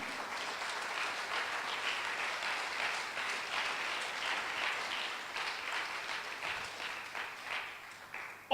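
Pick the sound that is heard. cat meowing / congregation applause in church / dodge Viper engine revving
congregation applause in church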